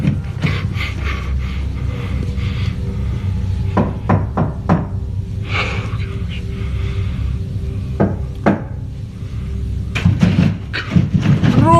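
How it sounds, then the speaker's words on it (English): Slow knocks land on a door as a run of sharp thuds spaced unevenly over a steady background rumble, moderately loud and close. "Then slow knocking begins on the door."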